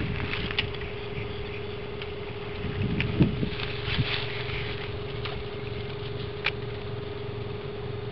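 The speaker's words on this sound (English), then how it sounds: "The pump boat that took me here" A pump boat's engine drones in a steady low hum throughout, with a constant tonal whine above it and faint splashes and knocks, running nearby.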